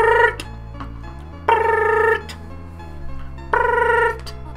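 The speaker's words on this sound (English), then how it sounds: "Dialing." A phone ringing after dialing in the video game Undertale: three separate bursts of a bright, buzzy electronic ring tone spaced about two seconds apart, loud and clear over a low steady hum.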